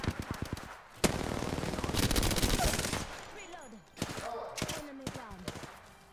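Rapid automatic gunfire from the video game Apex Legends rattles in loud sustained bursts, followed by a few scattered shots, with players talking faintly.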